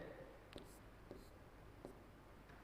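A maths teacher writes on a board during a lesson on arithmetic progressions, with faint, brief scratchy strokes at about three spaced moments over a low background hum.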